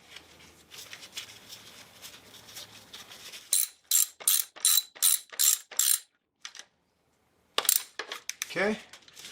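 A ratchet wrench tightening valve cover bolts on a 1999 Acura RL, giving a quick run of sharp clicks and then a few more after a pause, with quiet background noise before it.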